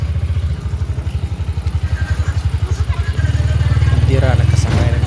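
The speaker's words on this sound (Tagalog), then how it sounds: "Dira nakasakay na og motor." Motorcycle ride on the way to Malinda: a loud, steady, close putter of a mid-sized engine throughout, rising a little in pitch and loudness partway through, no talk.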